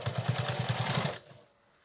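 A sewing machine runs a stitch along a fabric face mask with no ear loops, a close, steady rapid pulsing whir for just over a second that then cuts off into near silence.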